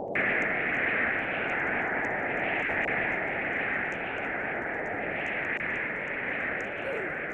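Steady roaring drone of an airplane taking off in Roblox Natural Disaster Survival, a broad, unbroken engine rush holding level for several seconds, fairly loud and without speech.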